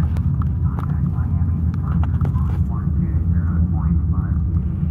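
A Boeing 737 engine in the Prepar3D flight simulator drones steadily through a climb after departing Miami, with faint voices in the background.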